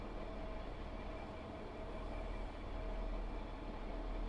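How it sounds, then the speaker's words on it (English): A diesel train engine in ScotRail livery on the Fife Circle Line, in the Train Sim World 4 game, settles toward idle with a low, steady rumble and hum throughout, no voices. "set the throttle idle, which will be bone idle now. I like the audio as the revs come down."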